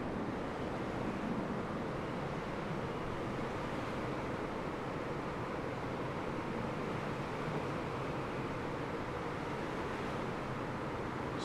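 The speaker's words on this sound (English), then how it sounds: "I love the wind." Steady rushing wind during a glider flight over Bangladesh, a constant broadband roar at low level that holds evenly throughout without voices.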